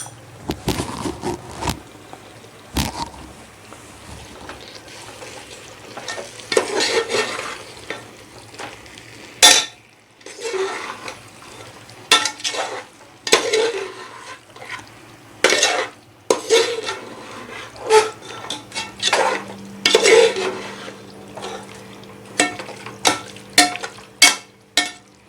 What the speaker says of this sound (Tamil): இப்போ கறியை சேர்த்து நல்லா கிளறி விட்ருவோம்